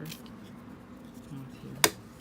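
Scissors snip once through extra fabric while a tube top is being sewn. A single sharp, close cut lands near the end over a low, steady room hum.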